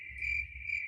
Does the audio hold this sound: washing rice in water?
no